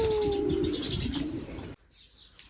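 Pigeons coo and chirp among a flock of many kinds of pigeons, near and fairly loud for most of the moment, then drop to faint calls after a sudden quieter stretch.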